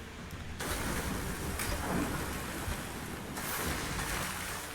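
Steady rain ambience in the Gwent card game, a continuous hiss of falling rain that swells in brief bursts, moderately loud and alone without talk.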